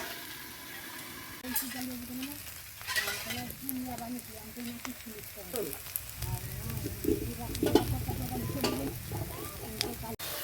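Steady frying sizzle of green banana in a pan with occasional stirring scrapes, close by, while a person talks intermittently over it.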